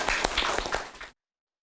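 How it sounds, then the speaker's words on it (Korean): A short burst of clapping from a small group of high school students in a classroom, close by and fairly brisk, ending abruptly into silence. "우리 박수 한번 치고 마무리합시다."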